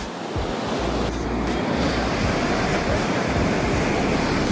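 Surf rolls onto a white sand beach at foggy sunrise, a constant loud wash of broadband noise mixed with heavy wind buffeting the microphone.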